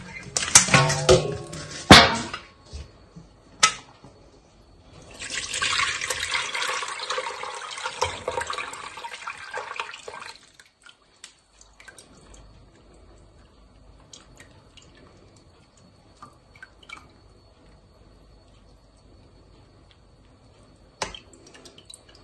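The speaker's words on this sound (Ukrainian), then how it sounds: "зараз процідимо нашу юшечку цю, щоб залити тепер нею наші помідори" Brine poured from a pot through a metal colander into another pot while making pickled green tomatoes, heard as a burst of splashing, trickling liquid for several seconds, then fading to faint drips and kitchen clatter.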